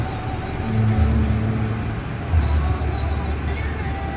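A Chery Tiggo 7 Pro engine revving as the accelerator is pressed, a low droning rise that swells twice, heard from inside the car under steady background noise with a voice nearby.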